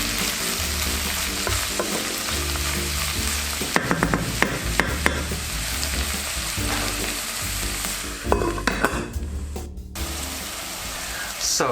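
Mushrooms and olives frying in a pan for a pasta tomato sauce, a continuous loud sizzle close up with clattering scrapes of stirring breaking through it.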